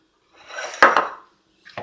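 Cake batter of melted butter, milk and egg for a microwave cake is stirred in a bowl, giving two short scraping swirls with a clink of utensil against the bowl, close and quiet otherwise.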